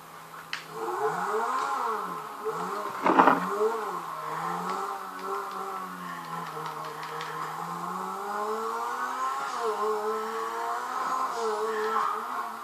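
A sports car in GTA 5, billed as faster than a Bugatti, speeds along with a steady engine whine that rises and falls through gear changes, with a brief louder burst near the start and talk over it.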